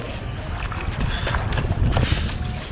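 Strong wind buffeting and choppy water slapping during a foil kitesurfing session, loud, gusty and continuous with irregular splashy bursts close to the microphone.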